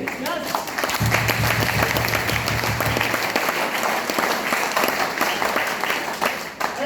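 An audience claps at a motivational talk, a dense, continuous burst of applause at steady loudness throughout, with crowd murmur and a brief low hum underneath.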